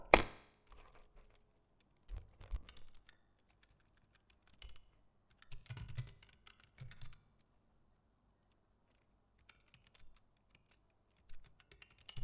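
Someone types on a computer keyboard while working in MS Word 2007, producing quiet, scattered bursts of close key clicks separated by silent pauses.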